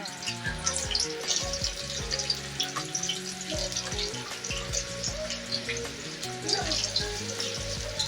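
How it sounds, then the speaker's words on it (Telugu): Onions fry in hot oil for egg biryani, giving a loud, steady sizzle and crackle with spattering pops and occasional stirring clatter, close by with no talking. "ఆనియన్స్ బాగా కలర్ చేంజ్ అయ్యేదాకా ఫ్రై చేసుకుందాం"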